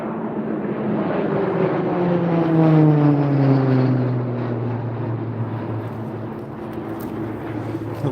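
A T-6 Texan propeller plane flies past in the Mach Loop, its engine drone swelling and then falling in pitch as it passes, loud and steady, with no voices over it.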